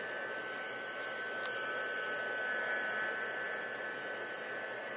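A hair dryer blows a steady, even whoosh at close range for the whole span while it heats and dries wood stain on a wooden sleigh.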